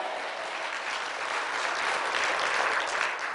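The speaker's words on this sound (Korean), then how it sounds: "박수 쳐 주셔야 합니다." A church congregation at a revival service claps together, a short burst of close, even applause that swells slightly toward the end, with no voices over it.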